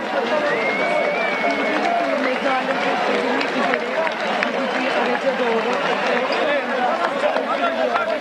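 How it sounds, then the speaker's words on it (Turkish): Crowd at the funeral of Sırrı Süreyya Önder sending off the coffin, a dense continuous roar of voices with scattered whistles and claps, loud and steady throughout. "Yurttaşlar da sloganlar ve ıslıklar, alkışlar eşliğinde Sırrı Süreyya Önder'i son yolculuğuna uğurluyor"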